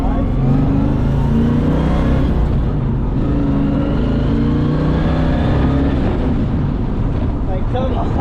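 A 1970 Chevrolet Camaro RS/SS big-block engine roars loudly and continuously as the car accelerates, a deep rumbling growl with wind buffeting the microphone.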